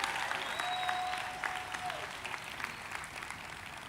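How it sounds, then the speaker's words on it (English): Audience applause at a Los Angeles City College commencement ceremony in 2017, a broad steady wash of clapping that gradually fades, heard from a distance with a brief whistle-like tone over it. "Give them a round of applause."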